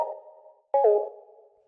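Synth lead built from two sine waves in Ableton's Analog, tuned seven semitones apart and slightly detuned, for minimal deep house: a soft sustained note fades, then a brighter second note enters with a clear attack and slowly decays.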